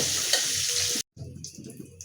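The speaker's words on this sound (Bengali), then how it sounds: "এই তেলেই আমি সিমটা ভাজব" Vegetables fry in hot oil for a khichuri dish, a steady close sizzle with stirring scrapes, broken by a brief silent gap before quieter sizzling and clinks resume.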